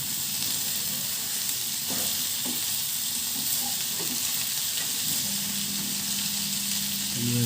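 A vegetable stir-fry sizzles and cooks down in a pan, a steady close frying hiss with a few faint scraping stirs and a low hum near the end.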